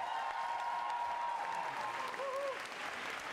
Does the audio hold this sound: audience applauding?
yes